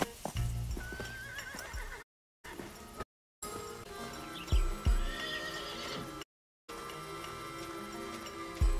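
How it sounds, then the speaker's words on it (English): Horses neigh and whinny repeatedly over hoof clip-clops and rumbling game ambience in Desperados III, with a few brief silent gaps. "Horses, Billy."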